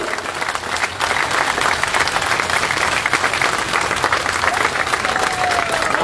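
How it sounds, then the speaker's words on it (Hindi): Loud, dense crowd applause at a large outdoor public rally at Kila Gate in Gwalior, swelling after a brief softer start and holding strong, with scattered shouts mixed in. "तालियों की गड़गड़ाहट से प्रधानमंत्री जी को धन्यवाद दें"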